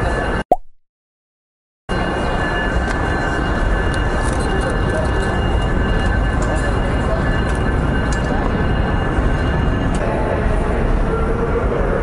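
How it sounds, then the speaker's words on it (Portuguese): A metro train rolls into a station platform on the PATH line from Newark, New Jersey, a loud steady rumble and hiss that holds for about ten seconds after a brief bump and a moment of silence. "Vamos logo que o trem vai estar vindo."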